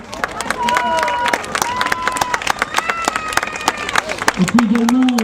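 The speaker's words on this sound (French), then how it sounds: "Je pense qu'on peut les applaudir." Audience applause and cheering for an ice skating troupe at Clichy On Ice, a crowd of hands clapping steadily in a large rink with shouts and babble mixed in, loud and sustained throughout.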